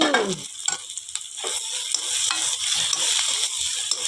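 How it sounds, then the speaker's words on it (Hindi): Boiled potatoes sizzle in a pan with onion masala, a constant bright frying hiss under repeated scraping stirs of a spoon, close and moderately loud, with no speech. "ये दे प्याज वाले मसाला भुंजा गए तो मैं डाल देता हूँ जी आलू।"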